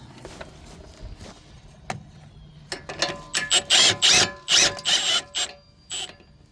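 A ratchet wrench works on a front strut bolt of a 2011 Infiniti EX35, starting with scattered faint clicks, then a close, loud burst of rhythmic rasping ratchet strokes with short pauses between them.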